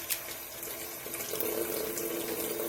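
Tap water runs steadily into a sink while makeup brushes are rinsed, a soft continuous splashing hiss that grows slightly fuller partway through, with no talking.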